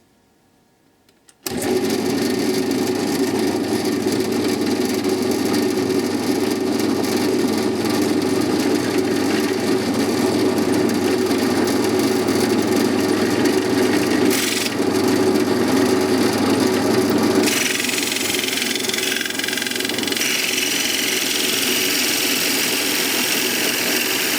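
A toy wheel cutter bores into wood on a machine spinning at about 1200 RPM, giving a steady, loud whirring drone that starts abruptly and runs continuously, with a brief dip partway and a slightly harsher tone near the end.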